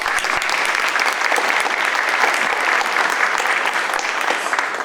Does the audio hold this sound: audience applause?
yes